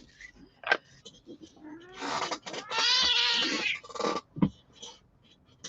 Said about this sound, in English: excuse the cat and her catitude.